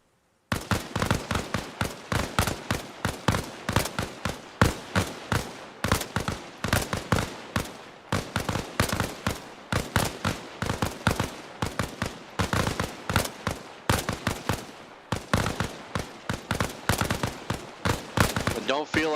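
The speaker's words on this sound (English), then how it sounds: "Go ahead and fire when ready." Rapid gunfire on an outdoor shooting range, a long run of sharp, loud, closely spaced shots in uneven bursts with brief gaps, continuing nearly unbroken and close to the listener.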